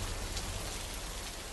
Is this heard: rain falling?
yes